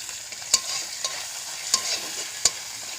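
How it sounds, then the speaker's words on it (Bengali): Fish and onions frying in hot oil tempered with dried red chili and black cumin seeds, a steady close sizzle with a few sharp stirring clicks from a utensil against the pan. "গরম তেলে মাছটা দিয়ে দেবো, দুটো পেঁয়াজও দিয়ে দেবো।"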